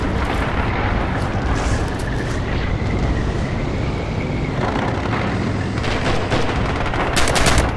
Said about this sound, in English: I warned you about that artillery, bro.